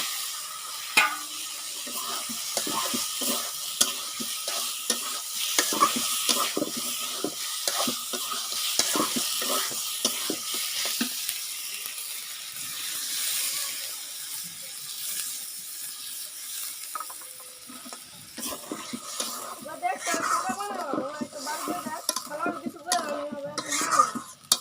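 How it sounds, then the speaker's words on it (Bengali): Spiced masala and meat frying in a pan while being stirred, with a steady close sizzle and frequent scraping and clinking of a spoon against the pot, getting softer in the middle before the stirring picks up again. "মশলাটা কষিয়ে নিন।"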